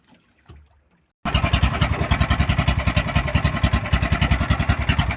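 After a brief quiet moment, a boat engine bursts into loud, steady chugging with a rapid regular pulse, running close by without voices.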